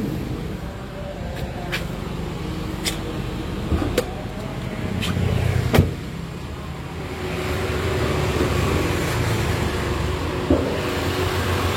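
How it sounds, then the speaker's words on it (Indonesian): A 2016 Datsun Go Panca 1.2 engine idles steadily and smoothly, a low continuous hum with a few faint clicks and taps on top, no voices. "untuk mesinnya seperti ini teman-teman, suaranya masih halus ya"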